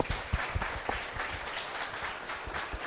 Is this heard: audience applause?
yes